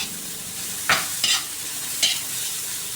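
Onions fried and stirred in a large wok, with a steady background sizzle and three sharp scraping strokes of a utensil against the metal, close and without talk.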